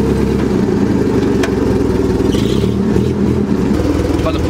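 A forklift engine idles and runs steadily at close range, a constant rumble while preparing to lift a Chevrolet Cobalt SS in a garage, with no speech over it.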